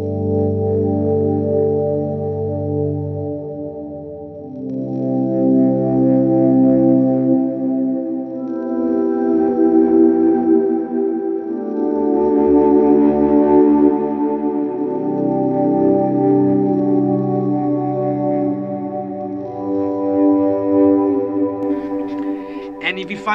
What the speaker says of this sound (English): Let me throw on a little bit more reverb, okay?